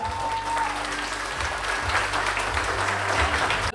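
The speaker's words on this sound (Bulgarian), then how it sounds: "Аплодисменти за свекървата." Guests at a Bulgarian wedding applaud the mother-in-law during the traditional welcoming of the newlyweds, loud sustained clapping filling the room over a low hum of music or voices.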